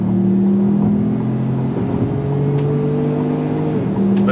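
A 2025 Ford Maverick Lobo truck accelerating in Lobo mode, its engine a loud steady drone with rising tones and quick gear shifts, heard from inside over road noise.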